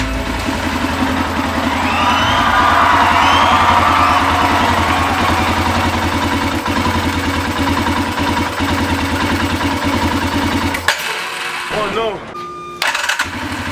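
A used ATV engine catches and idles loudly up close after fuel-system repairs, running steadily with a rough, pulsing note before cutting out near the end amid brief handling noises.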